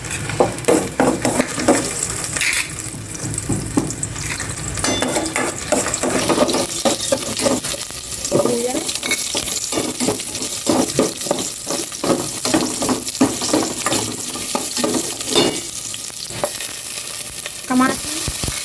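Garlic sautés in a hot frying pan with a steady sizzle, broken by repeated scraping and stirring strokes of a utensil against the pan, heard up close with no talking.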